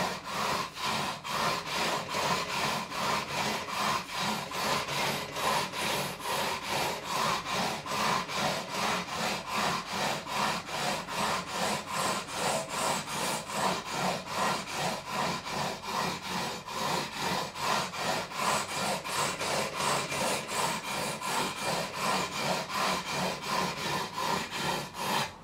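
Guitar frets on a 1972 Gibson Les Paul Deluxe are sanded with 400 grit sandpaper, a fast steady rhythm of short back-and-forth rubbing strokes, close and even throughout with no speech.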